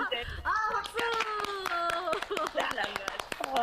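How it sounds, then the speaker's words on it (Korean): Rapid clapping from a crowd of hands, sharp taps and claps in an irregular stream, with voices and music-like tones carrying underneath. "박수."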